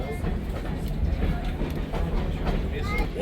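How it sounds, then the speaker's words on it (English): The 1880 steam train rolls out of the station through the Black Hills, a steady close rumble with rail clatter and clanking, and people talking over it. "As the train pulls out of station"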